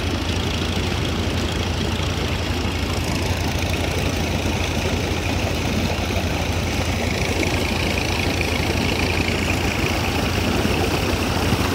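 Water-pumping motors run nonstop at the Amaravati iconic towers construction site, a loud, steady mechanical drone with a continuous engine-like hum and no pauses, close by and alone.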